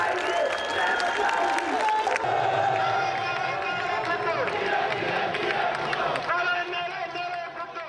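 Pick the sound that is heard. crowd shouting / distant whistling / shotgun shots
crowd shouting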